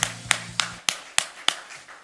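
Rhythmic applause in a church during an Easter resurrection worship service: about seven sharp, evenly spaced claps in unison, close and crisp, with a faint low tone sounding under the first few.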